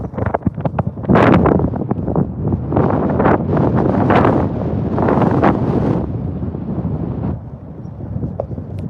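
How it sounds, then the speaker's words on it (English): Heavy gusts of wind by a river batter the microphone in loud, uneven bursts that roar for several seconds, then ease off toward the end. "Very windy."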